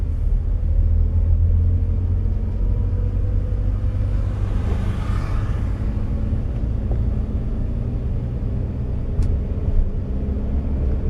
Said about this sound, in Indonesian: Jadi untuk berpindah ke gigi 2, tekan gas, injak kopling full, angkat gas, oper kedua, lepas kopling perlahan, tekan gas.